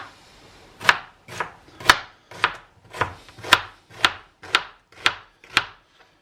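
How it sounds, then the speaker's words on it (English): Onions being sliced finely with a knife on a chopping board: about ten crisp, evenly spaced cuts roughly every half second, each ending in a knock on the board, close and clear with no talk. "just slice your onions as fine as you like"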